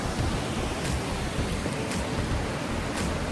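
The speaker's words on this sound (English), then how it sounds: "Some waterfalls behind us." Waterfalls rush inside a cavern on the Isle of Skye, a dense, steady roar of falling water filling the space with no breaks.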